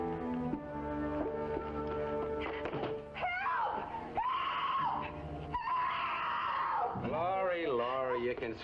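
A woman in a dramatic crime-series scene lets out several long, loud, wavering screams that rise and fall in pitch, following a stretch of sustained tonal sound, all close and dominating the scene.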